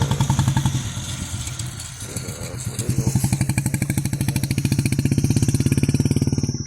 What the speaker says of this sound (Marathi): 1 सिलेंडरचं इंजिन दिलेलं आहे जितो गाडी 1 सिलेंडर इंजिन आहे